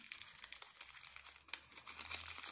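A plastic packet of silver square nails is crinkled and torn open, giving close, irregular crackling bursts with a sharper rip midway and denser rustling toward the end.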